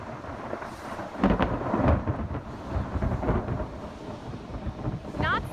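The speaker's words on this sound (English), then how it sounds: "Quite a loud boom of thunder earlier today." A thunderstorm in Shoal Harbor brings loud, close booms of thunder over a continuous wash of falling rain, the rumbles rolling in several heavy bursts.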